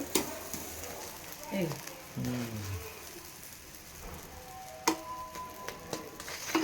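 Aloo paratha fries in oil with a steady soft sizzle and occasional ticks and pops, while someone talks over the cooking.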